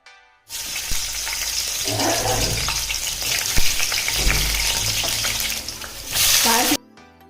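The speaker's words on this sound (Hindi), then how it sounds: "तेल अच्छे से गर्म हो गया तो उसमें हरी मिर्च का और प्याज का तड़का लगा दिए थे" Green chili and onion hit hot oil as a tempering for chow mein, giving a loud, steady sizzling crackle that runs nearly the whole time, with a brief surge of frying near the end.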